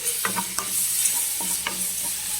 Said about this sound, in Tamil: இதை லைட்டாக சாட்டே பண்ணிக்கலாம்.